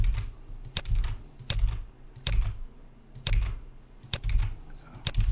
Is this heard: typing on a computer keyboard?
yes